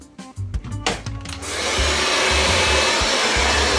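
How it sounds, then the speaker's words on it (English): A handheld blow dryer gives a few short clicks and bumps, then switches on to a loud, steady, close whooshing roar that holds for the rest of the clip. "you can hold your blow dryer like this"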